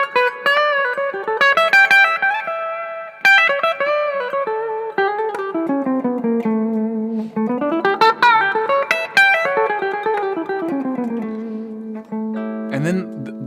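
A melodic blues-scale line played over an A dominant 7 chord, the second chord of an E blues, with sustained tones and steady phrases running continuously and fairly loud, with no talking.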